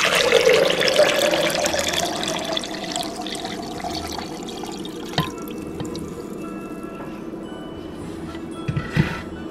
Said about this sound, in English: go ahead and add about 4 cups of water.